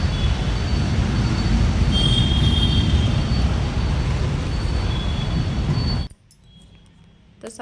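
A metro train ride sounds as a steady loud rumble of wheels and carriage noise with faint high squeals, then drops suddenly to quiet near the end.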